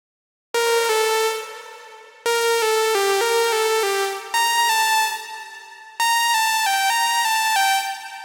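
Lead Manifest synth preset, a bright, harmonically rich melodic techno lead, in four sustained phrases with stepwise note changes, loud and clear with no voices.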